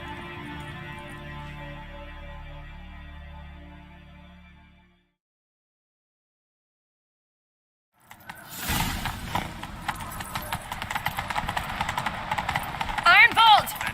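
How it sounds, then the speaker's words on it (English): Horse hooves gallop in The Witcher 3 video game, a fast, steady clip-clop that starts after a stretch of music and a few seconds of silence, with voices and game sounds over it. "Grab a horse, we'll chase him down."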